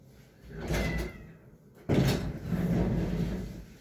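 A room door is pushed shut after cats are shooed out, with a soft bump followed by a louder, sharper thud of the door closing nearby.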